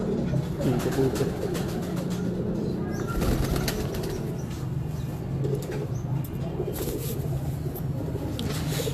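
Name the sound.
pigeons cooing and flapping wings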